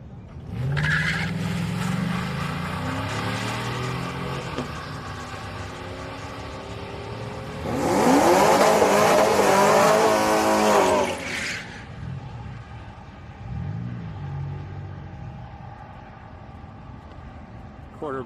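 Drag racing car making a quarter-mile pass at Houston Raceway Park on a street night, engine roaring steadily and swelling louder mid-pass before fading, with a person talking over it throughout.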